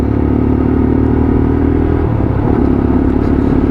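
A Lexmoto LXR 125cc motorcycle ridden on a test ride: a steady, loud engine drone with wind rumble throughout and a slight change in pitch partway through, heard from the rider's position with no talking.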